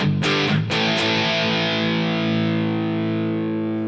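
Electric guitar played through an overdrive pedal on a Headrush pedalboard with the bass turned all the way down: a few quick strummed hits, then a long sustained distorted chord ringing out loudly and alone.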